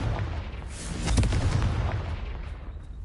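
A Confringo spell blast in the Hogwarts Legacy video game erupts as a loud, booming explosion that swells about a second in and trails off in a rumbling roar, with no voices.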